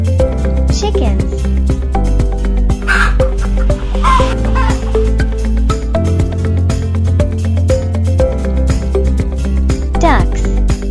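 Chickens cluck and a rooster crows over a loud, steady bed of music, the bird calls brief and partly masked.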